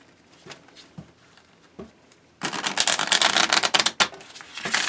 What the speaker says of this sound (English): give me a second while I shuffle this